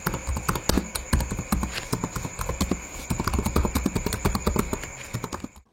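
Rapid typing on an Axioo laptop keyboard with soft travel, a close, busy stream of clicky key presses and occasional heavier strokes with no talking.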